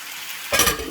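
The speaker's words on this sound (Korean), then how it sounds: "이렇게 오징어를 먼저 이렇게 살짝 볶아준 다음에" Squid hitting a hot pan beside pork belly, pushed to one side, bursts into a loud, bright sizzle halfway through, after a quiet start, and keeps frying steadily.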